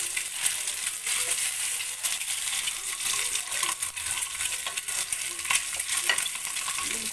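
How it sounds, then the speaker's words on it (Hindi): Eggs frying in a pan for a dhaba-style egg curry, a steady close sizzle with scattered crackles and small clinks running throughout, no talk. "थोड़ा सा अच्छे से फ्राई करना है हमें।"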